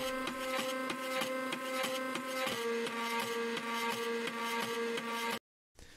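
A floppy disk drive plays an unprocessed sample from the Floppytron library, giving a steady mechanical buzzing hum with rapid rhythmic ticking from the head stepping. It runs continuously for about five seconds, then stops abruptly, followed by a short faint tail.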